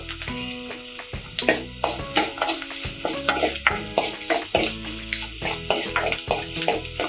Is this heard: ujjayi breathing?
no